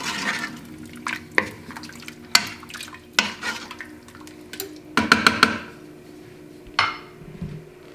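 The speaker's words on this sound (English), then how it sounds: "Give that a stir." Irish stew being stirred in an Instant Pot, a spoon scraping and knocking against the metal pot in a series of short, close clatters over a soft wet simmer.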